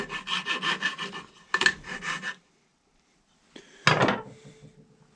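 A small 4-in-1 rasp filing material off a wooden ramrod, with a run of quick rhythmic rasping strokes, a short burst, a pause, then one more close, scratchy pass.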